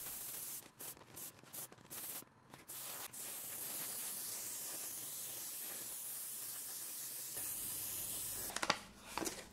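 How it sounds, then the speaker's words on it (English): An airbrush sprays black dye onto leather with a faint, steady hiss that goes on for several seconds, with a few brief stops and restarts at the beginning and end, heard close with no one talking. "I apply some black with an airbrush"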